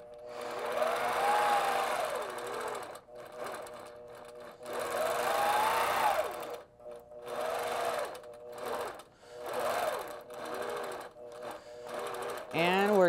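A longarm quilting machine sewing a straight line along a ruler runs in steady, loud mechanical whirring bursts, pausing and restarting several times, with someone talking over and between the stitching.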